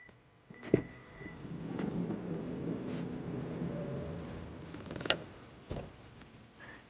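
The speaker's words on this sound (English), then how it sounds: "When you kick under it with the key in your pocket, this door opens." Power sliding door on a 2025 Toyota Sienna minivan opening hands-free, with a few mechanical clicks and creaks over a steady motorized whir, close and moderately loud, no talk.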